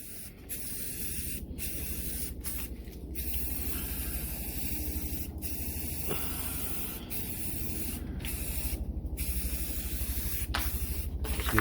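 Black satin spray paint hissing from an aerosol can onto a homemade picture frame, steady close bursts broken by short pauses, no voices.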